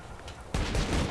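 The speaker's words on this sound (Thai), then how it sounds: "อุ้ยปืนยิงระเบิด" In the Borderlands 2 shooter game, a grenade launcher fires and a blast follows, a sudden loud, broad explosive burst rising out of a muffled background and ringing out briefly.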